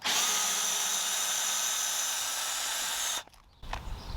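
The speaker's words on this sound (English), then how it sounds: "toss it right into the drill here. And we're gonna go ahead and start going at it." A power drill whines steadily and loudly at close range as it drives out rusty square-drive screws, then cuts off abruptly, leaving a brief rattle and some handling noise.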